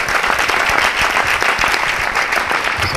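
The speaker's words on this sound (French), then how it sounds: "Sous vos acclamations, s'il vous plaît." An audience applauds steadily as an official is welcomed onto the stage at a live show: a dense, loud, continuous wash of many hands clapping with no pauses.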